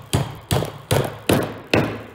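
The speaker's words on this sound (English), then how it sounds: "And we're gonna hammer it in." Five sharp hammer blows on a nail in wood, evenly spaced about half a second apart, close and fairly loud.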